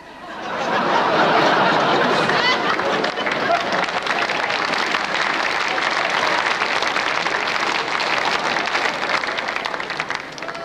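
Carnival audience at a Cologne comedy session bursts into sustained applause mixed with laughter and chuckles, a dense, loud crowd roar building quickly and holding steady to the end.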